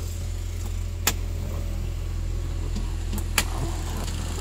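A car engine idles quietly and evenly with the hood open, giving a smooth low hum with two faint clicks along the way.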